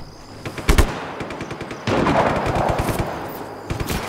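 Gunfire in the video game Just Cause 3, starting with a few single shots and then a loud, sustained rattling burst of rapid machine-gun fire, close and dominant.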